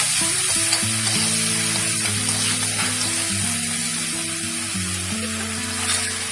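Gobi manchurian fries with a constant crackling sizzle and occasional stirring, while melodic background music plays underneath throughout.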